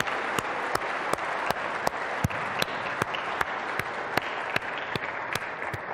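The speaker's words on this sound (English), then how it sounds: "give a hand of applause to a man who's been a leader" Steady applause from a conference audience at a UFO crash retrievals gathering, a dense sustained wash of clapping with sharp periodic snaps cutting through at a regular beat, loud and continuous for several seconds.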